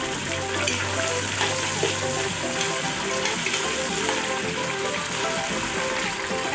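Garlic, onion and tomatoes sautéing in a pan for beef stew, a loud continuous sizzle with crackling spatter and occasional stirring scrapes, no talk.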